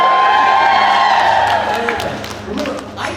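A convention crowd at an anime event opening ceremony in Iowa cheers and whoops in one loud swell that gradually fades, with scattered claps and shouts trailing off near the end.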